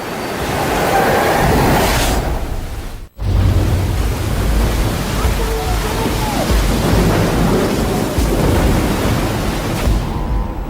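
A storm at sea near the African coast brings loud, sustained rumbling surf and wind-driven noise, broken by one brief silent gap early on before the heavy roar resumes and continues to the end.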